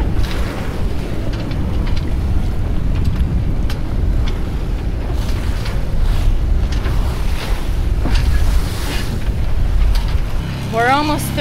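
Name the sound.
boat motoring through choppy sea with whitecaps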